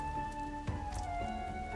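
Steady soft rain falls in Final Fantasy XIV: Stormblood, a continuous even patter over low game ambience and tonal music, with a single brief thump partway through.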